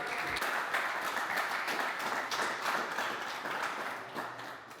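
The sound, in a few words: audience applause for sponsor Shiftech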